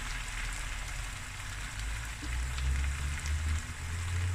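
Lamb and rice fry in a pan with spring onion, soy sauce and oyster sauce, giving a steady, moderate sizzle that runs the whole time with no talking.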